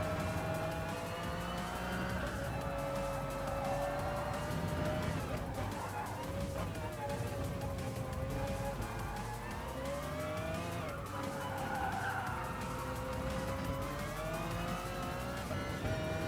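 Race cars in the GT Sport video game roar through laps, engine notes rising and falling with tire squeal and skidding, with a voice talking over the steady engine drone.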